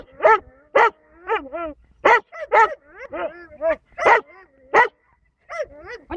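A Belgian shepherd dog barks on command, giving about a dozen sharp, close barks and yips in irregular bursts, with brief pauses between them.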